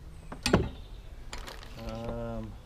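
Metal bolts being run into a lawnmower part to test the fit: a sharp clink, then scattered clicks and a fast ratcheting rattle of metal on metal, close by.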